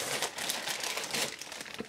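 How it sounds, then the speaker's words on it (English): Plastic bag crinkling as new Gucci sneakers are pulled out during an unboxing: quiet, close, irregular crackles and rustles in quick bursts, with no talking. "Let me just take them out of the plastic bag."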